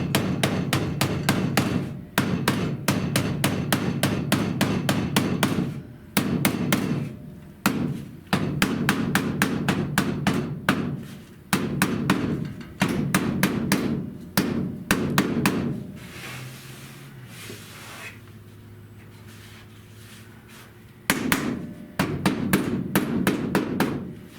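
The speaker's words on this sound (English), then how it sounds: "I'm going to hammer this" Rapid, steady hammer blows on the rusty metal window channel of a 1970 Buick Wildcat, sharp ringing strikes in long runs with brief pauses, loud and close, a quieter humming stretch near the end.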